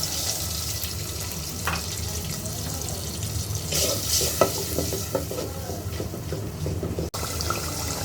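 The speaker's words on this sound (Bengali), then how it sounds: "সামান্য পানি দিয়ে মশলাটা কষিয়ে নেব।" A spice paste of ground spices sizzles and fries with a little water in a pan for red chicken curry, with steady stirring and scraping throughout, close and continuous, no talk.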